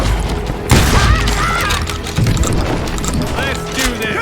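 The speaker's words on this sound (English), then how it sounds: "They're shooting in the street." A gunfight breaks out on a frontier town street in Call of Juarez: Gunslinger, with loud overlapping shots and booms over a rumbling background. Voices talk over the shooting.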